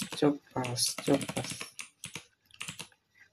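Fast clicking of a computer keyboard as a shortcut is typed, a quick run of close, crisp keystrokes with a person talking over it.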